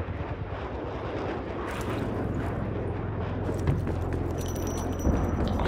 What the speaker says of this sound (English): Multiple hostile spy planes detected.